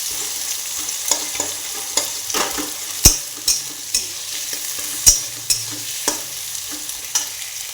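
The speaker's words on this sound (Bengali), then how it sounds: "পেঁয়াজগুলো কতক্ষণ ভাজবো, যতক্ষণ না পর্যন্ত বাদামি রং হয়ে যাচ্ছে।" Onions fry in a pan with a steady background sizzle, punctuated by repeated sharp scrapes and clacks of a spoon stirring them at an irregular pace, close and clear with no talking.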